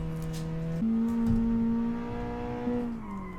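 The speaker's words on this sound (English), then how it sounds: "Okay, a bit of a weak launch, but I'd rather have a controlled launch than spinning out instantly." A sports car launches in a racing video game built in Automation, its engine note holding a steady drone, then jumping in pitch as it shifts, with faint tire noise, sustained and close.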